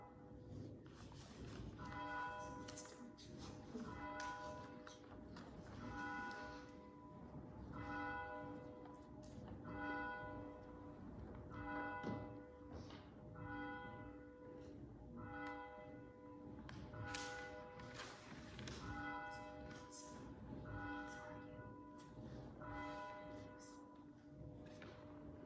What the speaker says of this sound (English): as we listen to the ringing of the bell.